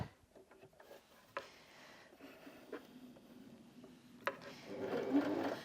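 A Janome Sewist 725s sewing machine runs a straight stitch at 3 mm length, a steady mechanical whir building in the last second or so after quiet clicks and handling noises, close and fairly soft.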